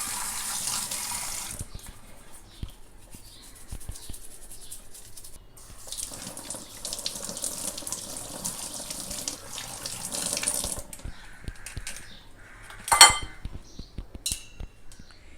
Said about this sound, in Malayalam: അതും ഇതുപോലെ ഒരു ബ്രഷ് വെച്ച് നല്ലതായിട്ട് കഴുകി എടുക്കുക.